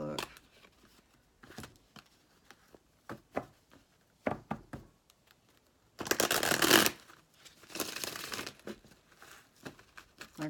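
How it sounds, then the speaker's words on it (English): Tarot cards riffled and shuffled in bursts, crisp papery flutters and snaps with a long dense run of shuffling in the middle, mixed with quieter handling taps and occasional talk. "Like I said, the cards are flying all over."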